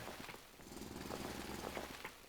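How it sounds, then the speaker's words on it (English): A drill grinds steadily into rock in the factory-building game Foundry, a faint, continuous rough churning with a low rumble and light rhythmic chatter throughout. "now we're starting to get into some rock, which is going to take a little bit longer to drill"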